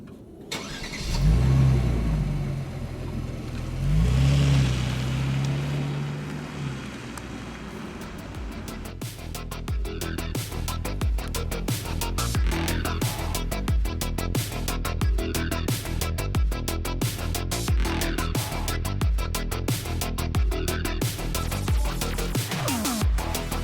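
A Kia Stinger GT with a 3.3 T-GDI twin-turbo engine of 366 horsepower pulls away and accelerates, its engine note rising and holding steady at close range over continuous road and cabin noise.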